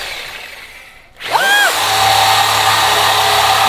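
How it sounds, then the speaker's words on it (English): A sawzall reciprocating saw cuts small hangers off a Jeep part, revving up sharply after a brief pause and then running at a loud, steady buzzing whine close by. "sawzall off these little hangers off of this piece"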